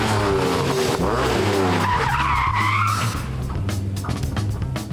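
A T440R sports car slides sideways under power on a race track, tires squealing loudly over a revving engine whose pitch steps up and down throughout, sustained and close.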